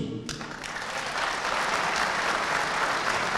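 Crowd applause at a provincial party congress in Elazığ, dense clapping swelling after a brief voice at the start and holding steady, loud and sustained to the end.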